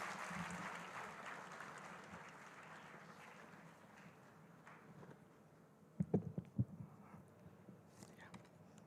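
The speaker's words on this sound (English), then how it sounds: "So I request all of you all to please welcome him with a huge round of applause." An audience at Osmania University's 109th Foundation Day celebration applauds to welcome a performer. The clapping is fairly faint and fades over several seconds, with soft murmuring, then a few sharp knocks near the end.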